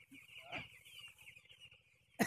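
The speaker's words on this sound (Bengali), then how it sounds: "মুরগির ফার্ম" Chickens cluck on a chicken farm, a soft steady run of clucks and calls with a faint sustained tone and a sharp louder noise at the very end.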